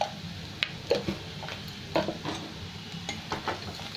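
Ground spices, Kashmiri chilli powder and coriander-cumin powder, frying in oil for kaali masoor dal, a faint soft sizzle beneath intermittent light spoon scrapes and taps against the pan.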